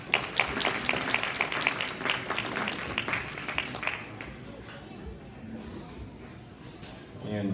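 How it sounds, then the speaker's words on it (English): Crowd applause for exhibitors at a swine show, with dense clapping for about four seconds that then fades to a quieter murmur of voices and hall noise. "Let's give all these exhibitors a big round of applause"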